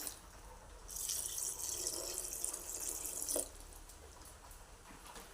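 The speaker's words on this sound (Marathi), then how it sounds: "आता याच्यामध्ये आपण पाणी टाकून घेऊया जेवढं अळू आहे ना त्याच्या थोडं वरती येईल एवढं पाणी टाकूया आपण" Water is poured into a pot of colocasia (alu) leaves, a steady hissing splash for a couple of seconds that then stops, leaving a quiet background.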